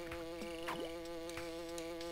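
Insect buzzing from a bee enemy in the Donkey Kong Country 2 Game Boy Advance version, a steady droning hum running the full length of the swamp stage at moderate loudness, layered with game music and brief sound effects.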